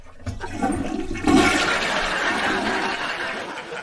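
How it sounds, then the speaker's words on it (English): A toilet flushes close by, beginning with a sharp release and then a loud, steady rush of water that lasts for several seconds with no talking. "I couldn't hear you over the toilet flushing."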